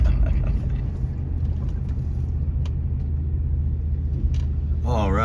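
A car drives along a road with a steady low engine rumble and tire noise throughout, fairly loud and continuous, ending with a brief warbling electronic tone.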